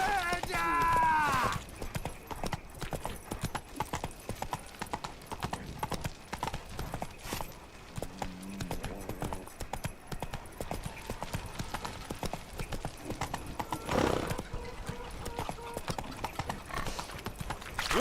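Roach, the horse, gallops in The Witcher 3 with a steady, rhythmic clip-clop of hooves running through a long stretch under game music and effects, with a brief neigh near the start and voices speaking at times.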